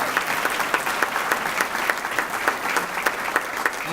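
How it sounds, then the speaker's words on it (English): An audience at a North Hempstead inauguration ceremony applauds the MC: dense, continuous clapping from a large crowd, steady throughout with no speech over it. "Give John Wright a round of applause for being a great MC"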